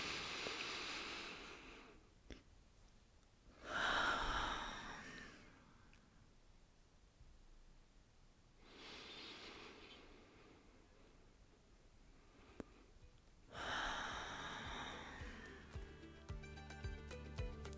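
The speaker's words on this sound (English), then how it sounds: "I'm just going to finish off by taking a few more deep breaths." Slow deep breaths during a calm energy-cleansing meditation, with several long soft inhales and exhales rising and falling in waves, close and quiet, without speech.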